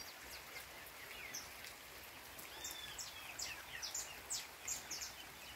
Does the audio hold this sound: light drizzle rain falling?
yes